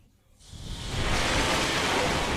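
Surf rolls in on a Brazilian beach during metal detecting, rising from near quiet into a loud, sustained rush of breaking water and wash that stays close and steady, with no talk over it.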